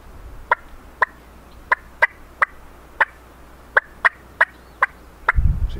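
A turkey call imitates a hen with a series of about a dozen sharp, evenly spaced fast clucks, close and clear, ending with a soft rustle.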